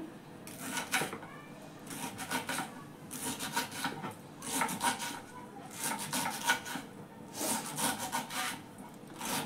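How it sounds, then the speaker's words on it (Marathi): Knife chopping radish leaves finely on a board, a quick run of close, crisp rhythmic cuts in repeated bursts with short pauses between them. "आता मी ही भाजी अशी चिरून घेत आहे. बारीक चिरून घ्यायची जरा."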